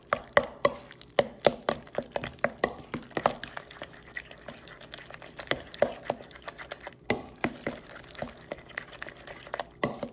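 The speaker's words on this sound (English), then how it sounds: "And we'll go ahead and stir that up." A spoon repeatedly scraping and tapping through banana bread batter as baking soda and baking powder are mixed in, steady quiet rhythmic strokes close by.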